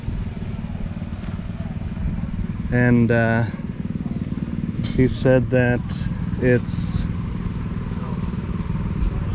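A 1953 Ferguson TO30 tractor engine runs at a steady, loud, low chugging idle throughout, while someone talks over it.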